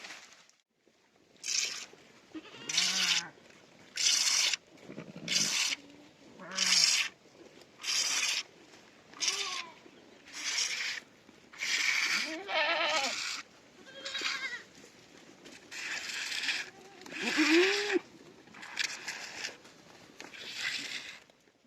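Goats bleat repeatedly, one call after another in a steady series, some near and some farther off, with quiet gaps between, as a herd is driven down a hillside forest.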